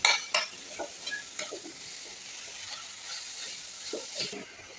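A coconut and jaggery mixture being stirred in a pan for coconut kapnya, with a low, steady sizzle under scraping strokes and a few sharp clinks of the spoon near the start.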